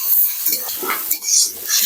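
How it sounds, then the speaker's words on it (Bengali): Onions stirred in a hot pan with salt and turmeric, a brief close run of scraping spoon strokes over a soft sizzle of frying. "পেঁয়াজের সাথে ভালোভাবে মিশিয়ে ভেজে নেব"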